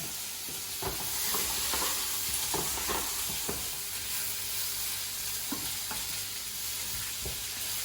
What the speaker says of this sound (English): In goes the crispy beef.